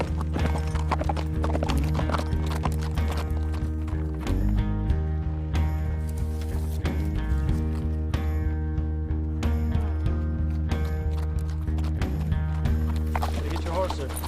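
Horses clip-clop steadily across a western-style scene, the hoofbeats running throughout beneath a continuous musical score, with a brief whinny and voices present.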